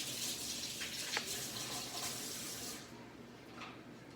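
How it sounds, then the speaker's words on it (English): Water runs steadily from a kitchen tap as a measuring spoon sticky with maple syrup is rinsed, a close, continuous splashing hiss that eases off toward the end. "here we go for a rinse."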